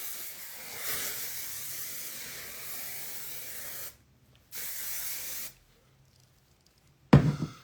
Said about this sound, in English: So I'm just going to use this Moroccan oil medium finish hairspray.